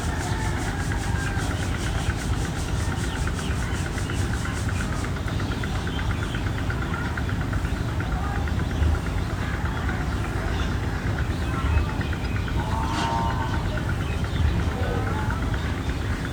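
A sewing machine runs steadily with a fast mechanical hum and rapid needle chatter while stitching a double-folded fabric strip onto a neckline, the pace easing partway through.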